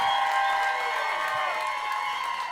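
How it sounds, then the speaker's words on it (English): Comedy show audience clapping and cheering for Josh Johnson, a sustained roar of applause with whoops and high cheers riding on top, loud and continuous before gradually easing off. "Start clapping for Josh Johnson, y'all"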